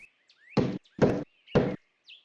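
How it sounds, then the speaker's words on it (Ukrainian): Three firm, evenly spaced knocks on a wooden door, close and clear as a fairy-tale sound effect, with faint bird chirps in the quiet background. "Він вернувся, постукав у двері"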